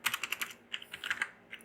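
Quick bursts of keystrokes on a computer keyboard as a name is typed into an HTML form field, close, light clicks in short irregular runs with no talk.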